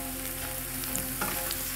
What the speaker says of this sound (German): Wird schön untergerührt